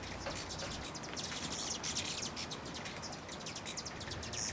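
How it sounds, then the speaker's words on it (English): Rufous hummingbirds chatter at a feeder on Mount Lemmon in southeast Arizona, a steady run of thin, high twittering chips under a constant hiss of background noise, faint and a little distant. "But you can hear the very chatty Rufous in the background."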